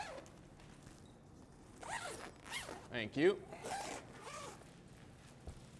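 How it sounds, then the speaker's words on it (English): A zipper drawn shut along a lighting diffusion panel bag: several quick rasping zip strokes up close, bracketed by a brief spoken phrase. "So again, I can just easily zip this closed."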